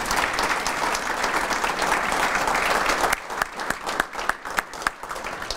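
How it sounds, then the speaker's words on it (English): A room of event attendees applauds the session sponsors, a sustained, full burst of clapping that suddenly breaks into scattered individual claps tapering off. "Please give our sponsors a round of applause for their support."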